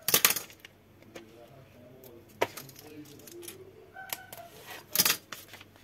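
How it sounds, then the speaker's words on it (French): Scissors trimming excess paper from a homemade Merry Christmas scrapbook card: scattered crisp snips and clicks at close range, with sharper bursts near the start, middle and end, over a quiet room with faint background murmur. "Et je vais essayer de couper l'excédent."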